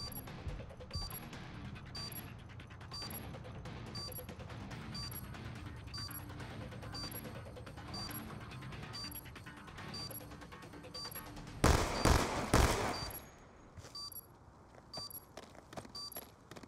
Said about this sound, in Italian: Bomba disarmata.